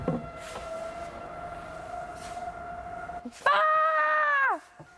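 A steady wailing tornado warning siren drones in the background, then a louder, closer siren tone rises sharply for about a second before cutting off.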